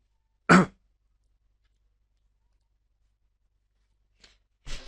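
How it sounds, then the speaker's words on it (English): A single sharp sneeze bursts out loudly, followed by near silence and then a faint breath and another short vocal burst at the end. "Excuse me, I'm gonna sneeze."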